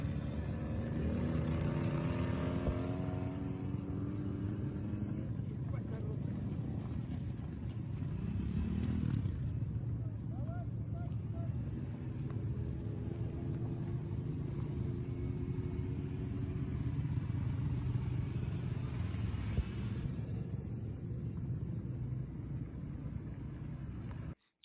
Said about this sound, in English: Lots of the infantry on motorcycles.